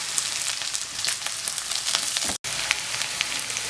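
Green chilies hit hot oil in a frying pan and give a continuous crackling sizzle with scattered pops, broken by one very brief silent gap.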